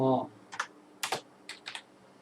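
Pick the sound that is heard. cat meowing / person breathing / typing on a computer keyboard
typing on a computer keyboard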